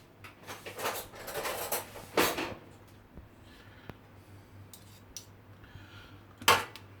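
A fork clinks and scrapes against a bowl while mixing coleslaw, giving irregular bursts of metallic tapping and clattering, close up with a sharp knock near the end.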